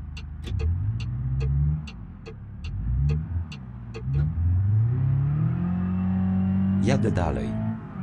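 An FSO Polonez car pulls away with its engine revving up and easing off several times in rising and falling sweeps. Light clicks are heard early on, and voices talk over the engine.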